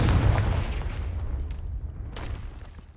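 The Confringo explosion spell in Hogwarts Legacy lands as a heavy booming blast that rolls off into a rumbling decay, with a sharper burst cracking near the end.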